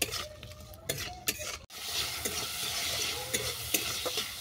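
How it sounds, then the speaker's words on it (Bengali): Shrimp lightly frying in hot oil give a steady, bright sizzle, broken early by a few sharp clinks and scrapes of a utensil against the pan, then settling into a continuous crackle. "চিংড়ি মাছটাকে হালকা করে ভেজে নেব।"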